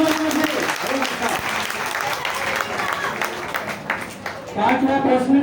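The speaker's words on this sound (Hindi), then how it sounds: "तालियां बजाइए जोर से" Loud, dense clapping from a crowd at a Hindu devotional gathering continues steadily throughout, with voices and chanting audible underneath the applause.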